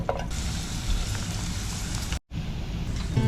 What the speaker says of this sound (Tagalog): Paano kung hindi tumigil ang ulan?